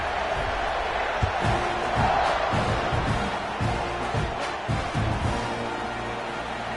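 A stadium crowd roars steadily in the Madden 25 football video game, a constant wash of cheering and noise with a few sharp thumps.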